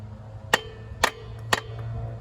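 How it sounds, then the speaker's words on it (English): Three sharp metallic hammer taps on a Jeep's drum brake wheel cylinder, evenly spaced about half a second apart, ring out close by over a low steady hum. "Now you're gonna take your hammer, and you just tap the wheel cylinder."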